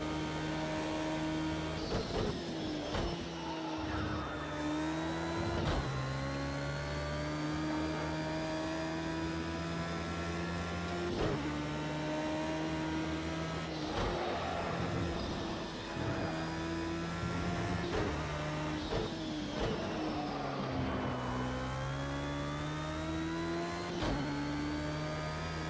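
Radical SR3 race car engine from Project Cars 2 at Cadwell Park, revving hard through repeated upshifts with rising pitch sweeps and brief drops between gears, loud and continuous throughout with no talk.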